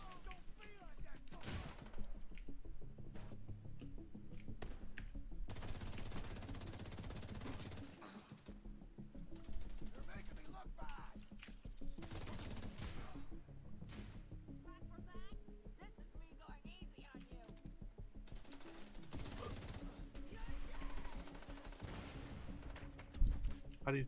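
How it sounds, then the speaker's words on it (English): A gun turret firing in a video game: bursts of rapid gunfire and heavier blasts rattle on and off over about twenty seconds, mixed with game noise and people talking throughout. "There's a turret in this one too."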